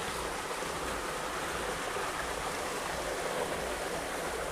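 Water gushes steadily from an irrigation motor pipe into a sugarcane field, a constant broadband rushing that stays even and fairly loud from start to end, with no voices over it.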